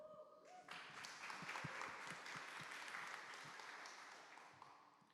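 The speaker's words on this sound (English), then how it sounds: "Round of applause, guys" Applause from a conference audience swells in after a brief pause and holds as a steady wash of clapping before slowly easing, quite faint overall.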